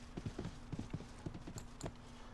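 Hooves of a flaming horse mount in the online game Rift clip-clop in a quick, steady rhythm at moderate distance, fairly quiet, with a faint steady hum underneath.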